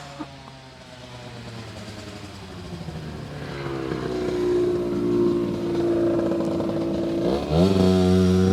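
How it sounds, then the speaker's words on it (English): A motorbike approaches from a distance, its engine note growing louder and rising in pitch as it draws near, then sweeps past close by with a sharp shift in tone. "I think there will be a motorbike passing by."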